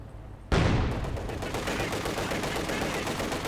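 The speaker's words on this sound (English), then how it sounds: "Another machine gun there for the Soviet army." Sustained machine gun fire from the Soviet side in the strategy game Company of Heroes 2, a dense rapid rattle bursting in loudly after a brief quiet moment and continuing steadily to the end.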